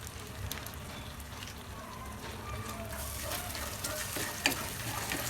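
Onion and ginger-garlic paste sautéing in a pan for a restaurant-style chicken gravy, giving a faint, steady sizzle with light stirring and one brief clink.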